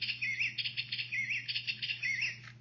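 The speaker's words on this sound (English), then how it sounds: "A beautiful little canary bird." A small canary sings alone, close by. It gives a bright, continuous run of rapid trills and warbling chirps with no break across the clip, over a faint low steady hum.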